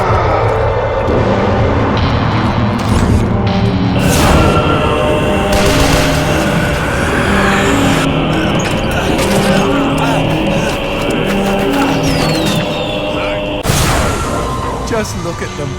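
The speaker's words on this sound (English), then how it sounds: "Fireworks! We could use these to chase away the darkness," Fireworks burst in the Shadows of the Damned video game, a busy run of loud bangs, crackles and sharp pops over a layered game soundtrack, with a few spikes standing out near the start and again late on.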